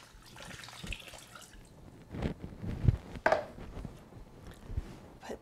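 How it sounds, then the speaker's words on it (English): Water poured into a Nutramilk machine holding oats, with quiet splashing and dripping that swells in the middle and trails off into light trickles. "So we just pour the water on in here."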